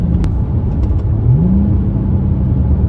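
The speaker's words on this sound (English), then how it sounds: "you do hear the pops a little bit when it blips to downshift" A 2008 Infiniti G35xS with a Stillen cat-back exhaust rumbles deeply as it downshifts, with a brief rising engine blip near the middle over a steady low drone and a few faint pops, close and loud.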